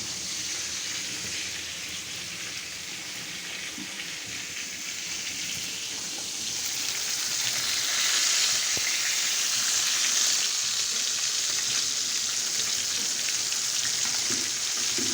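Fish sizzling in a frying pan at home, a steady broad hiss and crackle that swells slightly louder partway through, with no talking over it.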